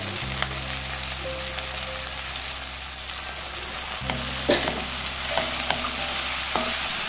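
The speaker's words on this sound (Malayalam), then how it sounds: "ഈ പച്ചമുളകും കൂടി ഒന്ന് വഴണ്ടാൽ മതി കേട്ടോ." Cut green chilies and tomato sauté in a pan with a continuous close sizzle, broken by several scraping stirs and clicks of a spoon against the pan over a low hum, and no one speaking.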